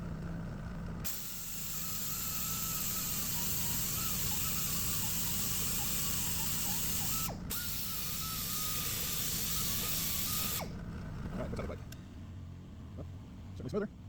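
An 80 grit Roloc disc on a pneumatic tool sands a metal hood ornament, a loud steady high-pitched whir with a brief stop partway through, then tapering off into scattered quieter handling noises near the end.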